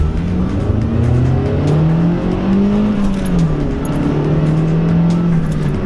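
A Mazda Skyactiv 2.0 engine and exhaust pull loud and close under acceleration, the engine note rising and falling steadily for several seconds without a break.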